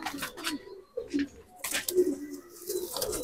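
Close, low coos from Malwai pigeons come in uneven bursts, a few throaty rolls separated by short pauses, with scattered rustling and wing or handling noises around them.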